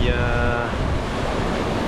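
Wind and waves at sea aboard a Gunboat 68 sailing catamaran on a transatlantic crossing, a loud, steady rush of breeze and surf close to the microphone with no pauses.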